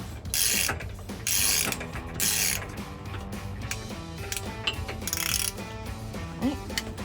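A ratchet loosening seat belt bolts inside a Jeep Wrangler YJ, clicking in rapid bursts separated by short pauses, close and steady, with a faint mechanical hum underneath.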